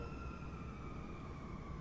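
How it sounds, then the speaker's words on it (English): A siren sound effect holds two steady, overlapping tones without pause, loud and close, alone with no talking. "basically there were sirens in the background"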